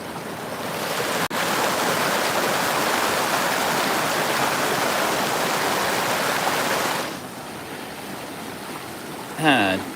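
A river stream with a small waterfall rushes in a steady, loud broadband roar up close, then drops to a quieter flow near the end, when a voice briefly begins.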